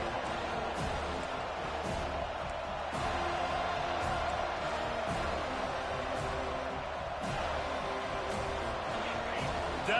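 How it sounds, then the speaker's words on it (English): Stadium crowd noise in a college football video game, a steady roaring wash with cheering swelling on a 3rd down, continuous at a moderate level with commentary voices over it. "Decibels rising as the crowd gets behind this defense on 3rd down."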